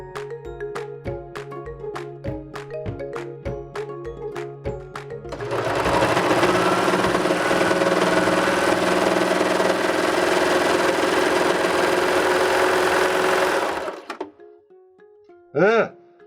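A Baby Lock serger stitches steadily for about nine seconds, loud and close, after a few seconds of slower, intermittent hand-turned clicking, and then stops.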